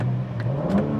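A 2026 BMW M4 Competition's exhaust revs briefly in its M1 drive mode, a short rising engine note heard from inside the cabin with air conditioning blowing loudly in the background.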